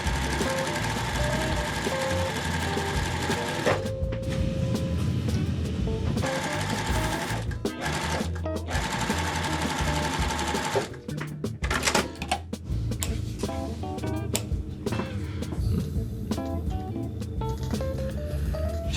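Sewing machine stitching quilt pieces together for a beginner layer cake quilt, running in steady bursts with brief pauses between seams, close and clear with no talking.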